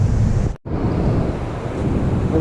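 Broad, continuous roar of rough monsoon sea waves washing against the shore, heavy with wind noise, with a brief cutout near the start before the surf resumes.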